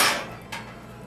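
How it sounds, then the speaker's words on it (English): A lid is set onto a cooking pot of lamb filling for samosas, making a single short metallic clack that follows a brief burst of sizzle. No voices are heard. "I'm going to put a lid on it"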